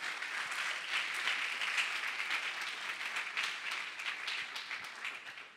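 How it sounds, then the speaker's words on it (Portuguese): A church congregation applauds continuously, a dense steady wash of clapping from many hands that fills the room at an even level for several seconds with no talk over it. "Você pode aplaudir Jesus por isso?"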